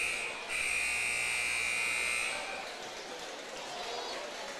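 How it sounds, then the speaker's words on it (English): A basketball arena buzzer blares during a high school girls' game, a loud sustained electronic tone lasting about two seconds before fading into crowd murmur and commentary. "Hold your ears for the buzzers."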